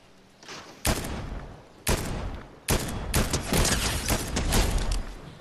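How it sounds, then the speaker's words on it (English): Bursts of automatic gunfire in the Fortnite video game, several loud rapid volleys starting and stopping in quick succession, then sustained shooting near the end. "Got some gunfire."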